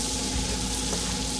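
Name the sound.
stirring broccoli cheddar soup in a pot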